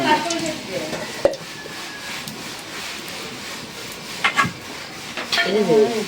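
Pangasius fish frying in a little oil in a home kitchen: a close hiss and crackle under scraping and stirring of a utensil against the pan, with a sharp knock early and louder rubbing bursts toward the end.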